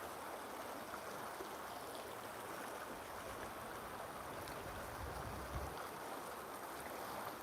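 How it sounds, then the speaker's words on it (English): Faint, continuous rushing of flowing water, a steady broadband wash with no speech over it. "Y'all can hear that water."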